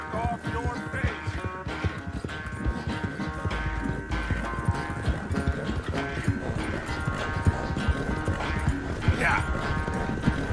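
Horse hooves clip-clopping steadily in the Western game Red Dead Redemption 2, moving at a riding pace under a dense bed of music, with an occasional whinny and speech-like voices mixed in.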